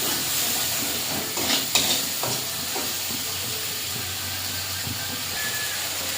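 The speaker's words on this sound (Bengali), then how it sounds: "হালকা জল দিয়ে দিয়েছি, এবার মশলাটা একটু ভালো করে কষে নেব।" Poppy-seed spice paste, thinned with a little water, sizzles while frying in a pan: a steady loud hiss with a few sharper spattering crackles early on, settling into a continuous bubbling sizzle.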